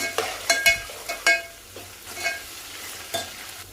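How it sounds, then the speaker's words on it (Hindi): Masala for Hyderabadi khichdi frying in oil over a high flame. Several sharp, close scraping strokes of a spoon against the pan come in irregular bursts over a faint background sizzle. "चलिए अब इसको 1 से 2 मिनट के लिए भून लूँगी अच्छी तरह से हाई फ्लेम पे"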